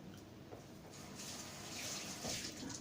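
Dried peppers rinsed under a running kitchen tap, a steady close hiss of water that swells slightly toward the end, with no talk over it.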